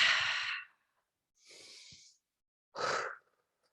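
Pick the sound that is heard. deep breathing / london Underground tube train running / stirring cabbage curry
deep breathing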